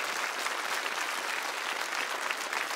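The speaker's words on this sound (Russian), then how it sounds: "Тогда аплодисменты нашим натурщикам." Sustained applause from a crowd, steady clapping filling the whole stretch without any pause.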